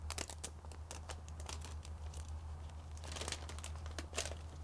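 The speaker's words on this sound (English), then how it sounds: "peel the orange tape up." Orange tape is peeled off a toner and drum unit for an OkiData Pro 6410 Neon color printer, giving a close, quiet run of crinkly tearing and crackling bursts over a steady low hum.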